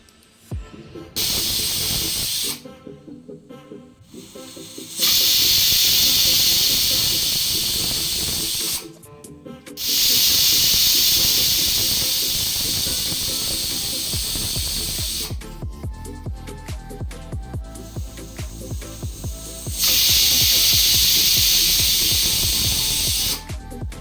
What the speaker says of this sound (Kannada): ಕುಕ್ಕರ್ ಕ್ಲೋಸ್ ಮಾಡಿದ್ದೀನಿ. ಇದು ಒಂದು 5 ವಿಷಲ್ ಹಾಕಬೇಕು.